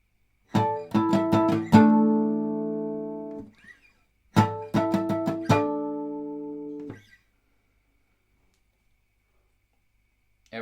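Acoustic guitar harmonics, played in two similar phrases of quick plucked chiming notes that ring and fade, quiet and close, with silence between and after.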